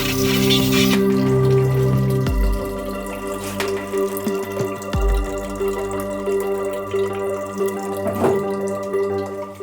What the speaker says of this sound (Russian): остатки самого абразива, который я здесь буду сейчас вымывать уже водой